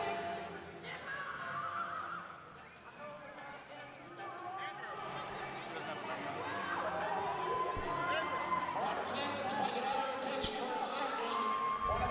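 Crowd cheering and applause in a university women's basketball gym, McMaster versus Queens, as players give the home fans a standing ovation at the last home game of the season; a steady broad roar builds louder toward the end, with shouts mixed in.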